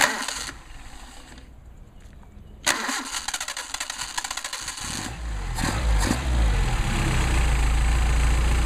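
A Mercedes 190SL on Solex carburetors cranks with a rapid rhythmic starter chatter, catches, and settles into a loud, close, steady idle rumble.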